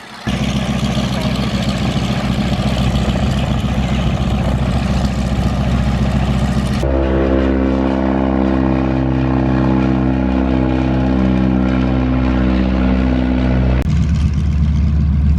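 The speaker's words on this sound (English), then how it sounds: "Over there taxiing, that's a T6 Texan." A T6 Texan training aircraft taxiing at a historic World War 2 aircraft event, its piston engine giving a loud, steady droning rumble throughout, with a deeper tonal hum in the middle stretch.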